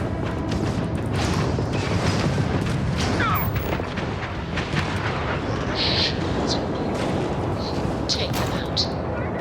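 Sustained gunfire and heavy explosions from a Starfield space-combat battle rumble continuously, loud and dense, with bursts of crackling shots layered over a constant low roar.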